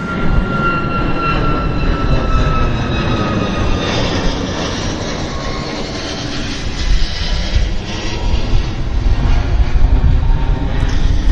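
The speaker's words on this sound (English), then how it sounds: "There's that cargo jet turning into its part where it roosts." Cargo jet taxiing at Vancouver airport, its engines a loud continuous roar and whine that swells toward the end, heard from a distance with no talking.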